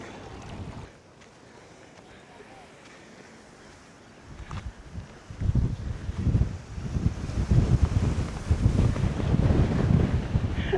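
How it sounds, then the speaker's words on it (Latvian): Strong wind on the Greek island of Kos buffets the microphone in heavy, gusty roaring bursts that grow louder partway through, with faint water sounds underneath. "Drausmīgs vējš."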